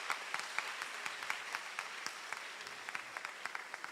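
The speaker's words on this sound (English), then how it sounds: "Please give a big round of applause." An audience gives a round of applause at a meetup event, steady scattered clapping from many hands with crisp individual claps popping through, fairly soft and at a middle distance.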